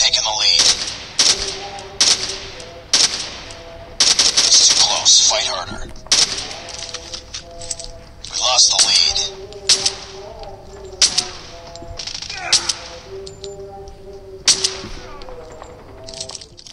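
Video game gunfire heard through gaming wireless earbuds: sharp cracking shots in irregular bursts and single pops, loud and close, with brief pauses between volleys.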